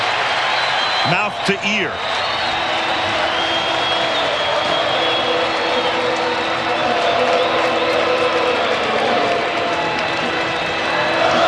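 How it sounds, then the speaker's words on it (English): A dense stadium crowd roars and applauds during a 1995 World Series game between the Indians and Atlanta, sustained loud cheering filling the space with a brief voice near the start. "the crowd rises as one"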